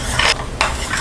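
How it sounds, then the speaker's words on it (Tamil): Coconut rice mixture being stirred in a cooking pot over low heat, with two bursts of scraping and rustling stirring strokes against a steady sizzle, close and fairly loud, no talking. "இதை சிம்மில் வச்சுட்டு நல்லா மிக்ஸ் பண்ணுங்கள்."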